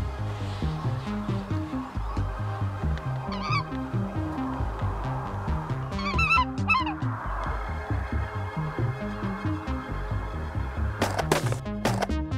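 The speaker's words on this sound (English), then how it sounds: "one of, if not the largest staging areas for speckle bellies" A flock of speckle-bellied geese on the Saskatchewan prairie at a large staging area honks continuously, many overlapping calls near and far, with sharper squawks bursting out at intervals.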